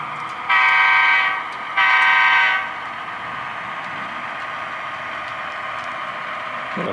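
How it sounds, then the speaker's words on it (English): Two long train horn blasts sound from a distance through woods, one after another, then fade into a steady low outdoor rumble, during GP15 locomotive local switching. "Got a honk through the woods there."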